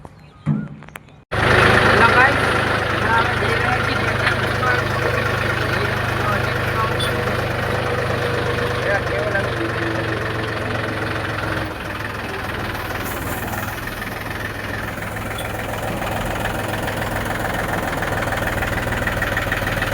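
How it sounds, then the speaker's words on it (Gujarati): A tractor engine idles steadily and loudly after starting abruptly, a continuous low chugging rumble that runs throughout with little change. "ટ્રેક્ટરનો અવાજ આવે એટલે મારો અવાજ"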